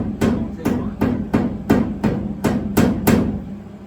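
Light hammer taps on a metal horn, eight evenly spaced sharp strikes about every half second, close and fairly loud, each with a brief ringing decay.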